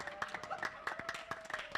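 Light audience clapping at a Balinese bondres comedy show for an anniversary celebration, a scattering of sharp hand claps with an uneven rhythm, faint and somewhat distant, with a thin background tone and no one speaking.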